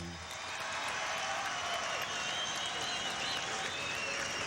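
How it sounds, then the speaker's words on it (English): Faint, steady arena crowd applause and cheering for two boxers after the Gomez–Feliciano bout, a distant wash of clapping and crowd noise holding level throughout. "give both these Latin warriors another round of applause"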